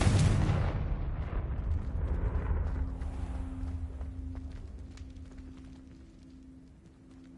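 A Confringo spell explodes in Hogwarts Legacy with a loud, deep blast at the start, followed by a long rumbling roar that slowly fades over several seconds while a faint steady hum lingers.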